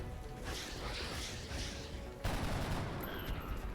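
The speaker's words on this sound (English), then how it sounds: "Headshot! Nice shot." Gunfire in the tactical strategy game XCOM: Enemy Within, a dense fusillade of rapid shots followed by a sharp burst from a headshot, loud and continuous.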